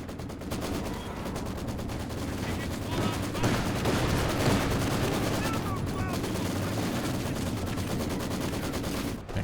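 A Maxim machine gun fires in long rattling bursts during a 2v2 Company of Heroes 2 battle, layered with other distant gunfire and explosions in a dense, continuous barrage.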